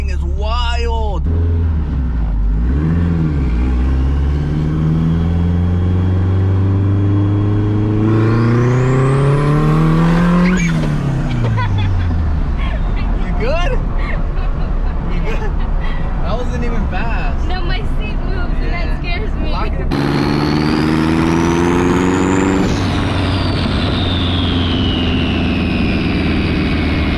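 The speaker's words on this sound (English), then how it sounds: "Two-step time. We hold the throttle a little bit." Tuned hatchback engine revving hard on two-step launch control in a neighborhood, repeated loud rising and falling revs with sharp crackling pops, close and continuous throughout.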